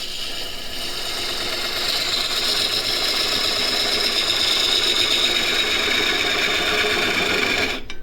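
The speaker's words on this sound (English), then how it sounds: "we'll come in with the detail gouge again on its side." A small wood lathe spins a large pawn blank while a detail gouge laid on its side cuts the wood, giving a steady close whirring, rattling hum with a fine scraping hiss that carries evenly throughout and stops abruptly at the end.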